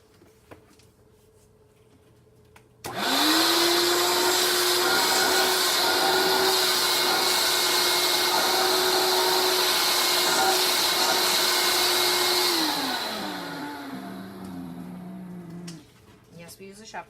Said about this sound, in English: I will go ahead and vacuum some of the hair up so that it's not everywhere.